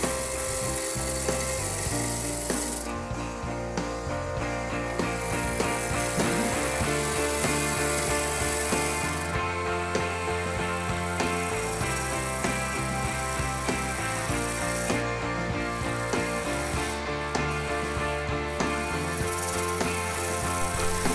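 A roughing gouge cuts a spalted wood cup blank spinning on a lathe, making a continuous loud scraping whir with rhythmic chatter that keeps going throughout, and no one speaks.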